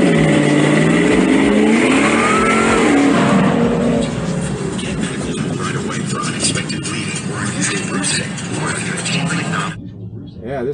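Lowered Tesla Model 3 with staggered wheels and wider rear tires launching on a drag strip, heard as a loud, steady rushing roar with tire and road noise that cuts off abruptly near the end.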